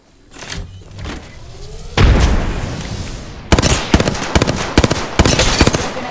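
Frag grenade blast in the Apex Legends shooter: a heavy boom near two seconds with a long decaying rumble, followed by rapid bursts of gunfire and sharp impacts.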